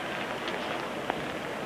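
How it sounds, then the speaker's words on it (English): Steady rain falls outdoors near a cathedral in Europe, a soft continuous wash of patter with one brief sharp drip standing out near the end. "And as you can see, it is raining."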